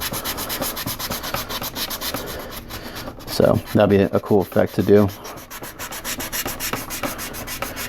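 Dry sanding of primer on a quarter-scale figure with a fine 400-grit sanding sponge: a short burst of quick rubbing strokes, close and fairly loud, in the middle of otherwise low background noise, with brief speech nearby.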